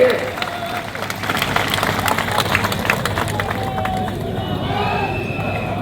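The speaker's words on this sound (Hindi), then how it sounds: "तो जोरदार ताली बजाकर उनका स्वागत करिए।" Crowd applause and cheering at an outdoor political election rally welcoming India's defence minister, heard as a dense, loud roar of many hands clapping with crowd noise and background chatter, tapering off toward the end.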